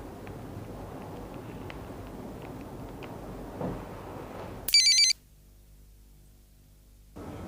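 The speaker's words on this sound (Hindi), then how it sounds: "लैंडलाइन ट्राई करता हूं।" A landline telephone in a home drama rings once in a short bright electronic burst after steady room noise, then the room goes nearly silent before the noise returns.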